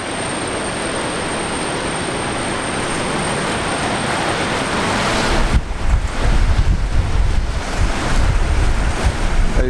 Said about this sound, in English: Oh, that's a big gust.